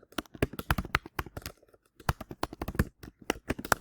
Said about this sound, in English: Oops, typing too fast.